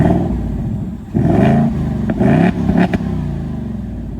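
A 2024 Ford Mustang GT engine, revved by remote in normal mode, rises sharply a few times from idle, each blip rising and falling back, loud and close, with no voices.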